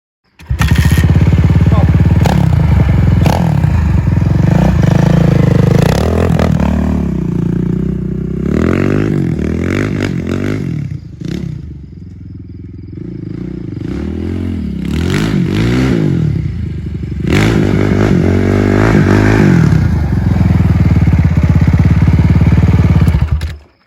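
A 450 motorcycle engine runs after a carburetor cleaning, loud and close, with repeated revving bursts rising and falling between a rough idle, and people talking over it.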